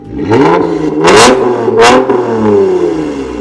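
A loud street-legal NASCAR Cup race car engine revs sharply three times in quick bursts, roaring up and settling back to a throaty idle between blips, close by.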